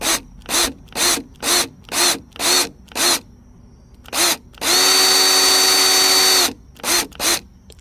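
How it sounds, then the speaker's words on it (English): A power drill set to drill mode bores into a RAV4 reveal molding trim piece: a series of short, loud whirring bursts in steady rhythm, then one longer sustained run before a few more short bursts, close up with no talk. "Make sure it's set on drill, and then you kind of just drill into it."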